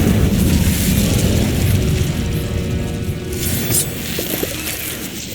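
An Incendio fire spell blast in Hogwarts Legacy: a loud, roaring burst of flame with a deep rumbling body that stays strong through the opening and slowly thins into a crackling tail.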